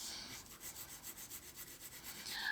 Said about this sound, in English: I'm just using the tip of my pencil.